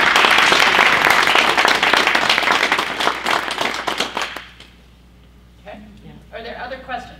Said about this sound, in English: So I would just like to give her a round of applause for being here